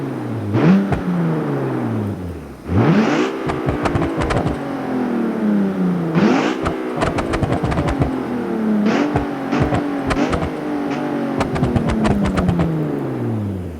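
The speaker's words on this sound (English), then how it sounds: "Take a good listen to this car right now." A Mercedes-Benz GT63 4-door engine in the game BeamNG.drive revs hard again and again, pitch climbing and falling with sharp gear-shift bursts, loud and close.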